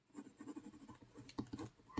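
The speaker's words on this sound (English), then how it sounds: "I'm just gonna write down gear" A pen scratches on paper at close range, quiet and steady, with a few sharper taps toward the end.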